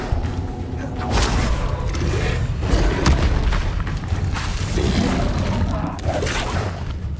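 Confringo explosive spell blasts in the Hogwarts Legacy video game, deep booming impacts and crashing thuds rolling one after another at close, loud range with dense low rumble throughout.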